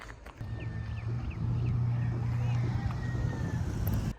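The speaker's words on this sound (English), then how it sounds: "I hear a car" A car passes along a road on Kauai near the Awa'awapuhi and Nu'alolo trails, a steady low engine rumble that swells and holds for several seconds, with wind and some faint chirps around it.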